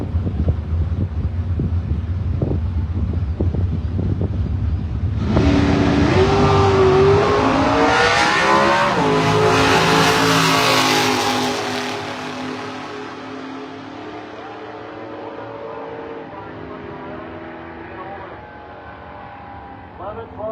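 Drag racing cars, including a 1966 Chevelle, roar off the line at a strip, the engines rising sharply in a loud rev and fading as they run away, with an announcer talking over the noise.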